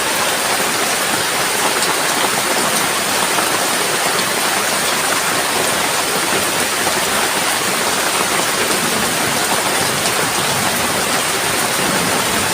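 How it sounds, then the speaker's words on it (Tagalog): Steady, heavy rain pours in a continuous broadband hiss, loud and unbroken throughout, with no voices heard. "Hindi namin hinintay na tumila yung ulan."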